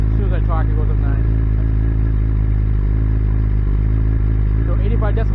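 A BMW S1000RR sport bike with its stock muffler idles steadily and loud up close, a deep continuous engine drone running throughout.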